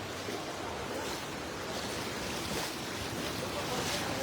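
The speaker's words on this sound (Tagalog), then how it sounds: "Lakas ng current ng tubig, idol." Strong river current rushing steadily, a dense, continuous wash of water noise with wind buffeting the microphone, loud and close throughout with no voices.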